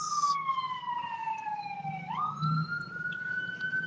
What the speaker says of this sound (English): Uh-oh, the ambulance.